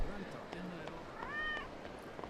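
Cat in the video game Yakuza 0 giving a short, faint meow with a slight rising then falling pitch, followed by quiet background sounds.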